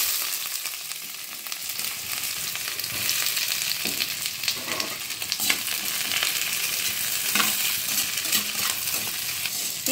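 Chopped onions fry in a pan to make birista, crisp fried onions. A steady sizzle continues throughout, punctuated by clinks and scrapes of a stirring spatula, close and moderately loud, with no talking.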